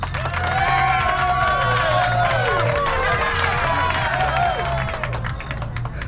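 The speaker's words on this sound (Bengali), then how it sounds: "তালি আর হাসিতে ছাদটা ফেটে পড়ল।" Applause and cheering from a crowd at a rooftop party, a loud continuous wash of clapping with excited shouts and whoops layered over music with a steady beat.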